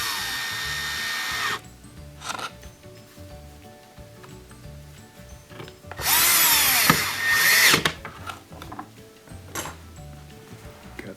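Power drill driving two Torx 15 screws into the frame of a Bosch dishwasher during a water fill valve repair, with loud whirring bursts near the start and a longer burst midway, separated by quieter handling noises.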